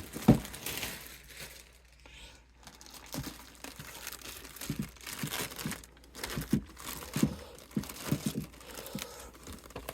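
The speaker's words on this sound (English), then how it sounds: "So the whole thing comes in a big plastic bag." Intermittent crinkling and rustling of a plastic bag packing a record player, close and fairly loud, in irregular bursts with short pauses, as the bag is handled.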